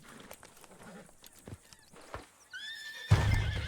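A horse whinnies in Red Dead Redemption 2 during a brawl in the town of Valentine, its call rising out of scattered thuds and clatter before a loud burst of noise closes the moment.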